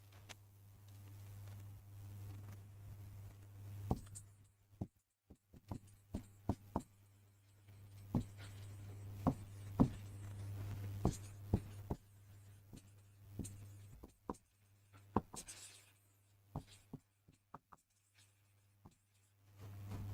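A pen writing notes by hand on paper, faint scratches and taps in uneven bursts over a steady low electrical hum, with no talk.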